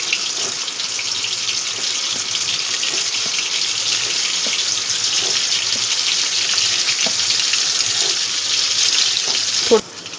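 Chicken balls frying in hot oil in a pan, a steady bright sizzle lasting throughout with faint clinks and one sharp knock near the end.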